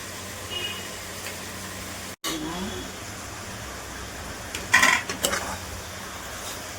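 Chicken frying in a pan with a soft steady sizzle throughout, a sharp cut, then scraping and clinking of a utensil stirring near the end.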